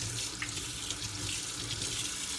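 A fork is rinsed under a kitchen tap after handling raw egg, steady running water splashing into the sink for the whole moment, close and fairly loud with no talking.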